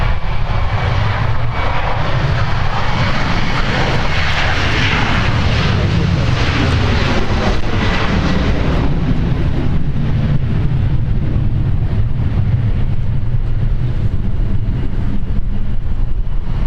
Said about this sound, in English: we're going to shift our attention here, not to the departing 737, but the arriving A321 XLR.